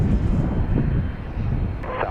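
A jet airliner roars on takeoff from runway 31 right at Dallas Love Field, a loud, dense low rumble holding steady throughout the short stretch.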